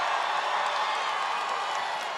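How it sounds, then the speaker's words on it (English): A rambunctious political rally crowd in Tucson, a broad, continuous roar of cheering and whooping that stays loud and even throughout. "This is a very rambunctious crowd."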